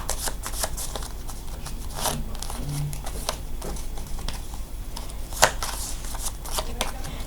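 A deck of playing cards is shuffled by hand during a close-up magic trick, giving a run of soft riffling and flicking bursts, with one sharper snap near the end.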